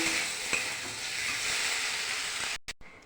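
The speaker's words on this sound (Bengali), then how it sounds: "কষানো হয়ে গেছে, এবার আমি দিয়ে দেব জল" Sautéed ginger, cumin and chilli masala for a cauliflower and potato curry sizzles steadily with a hissing, stirring texture, then the sound drops abruptly into brief gaps near the end.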